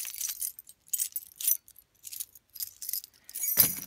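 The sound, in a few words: house keys jangling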